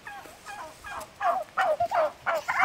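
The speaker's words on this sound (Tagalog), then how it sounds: "Yan yung nangingitlog natin na pabo" A turkey hen laying eggs gobbles repeatedly, a series of close, loud, warbling bursts that come in quick succession and grow stronger toward the end, with no talking.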